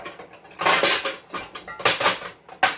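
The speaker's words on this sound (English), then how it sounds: "Let me get this pan. This is a 10x10." A 10x10 metal baking pan pulled out and handled, clanking and rattling against other pans and utensils in a quick burst of loud, close clatters.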